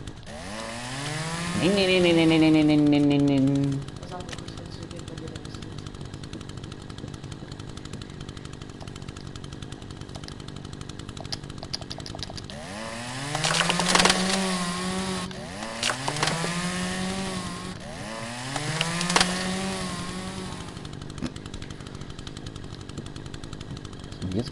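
Chainsaw in a video game revs loudly in several separate bursts, each rising and then falling away, with a steady engine hum between them and a brief spoken word.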